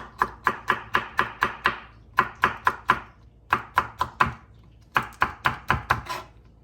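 A knife finely chops chili on a board for a Chinese pork stir fry: quick, crisp, close strokes in three rhythmic runs of about six to eight cuts each, separated by short pauses, with no talking.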